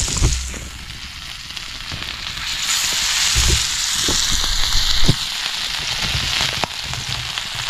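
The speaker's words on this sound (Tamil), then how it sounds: "முதல்ல பார்த்திங்கன்னா வந்து நம்ம மீனை வறுத்துக்குருவோம்" Fish frying at night over an open campfire on a camping trip, a steady close crackling sizzle with occasional sharp pops throughout, no voices.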